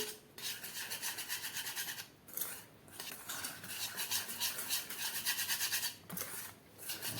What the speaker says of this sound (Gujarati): હવે આપણે બધો લોટ નાખી દઈએ અને સારી રીતે મિક્સ કરી દઈએ.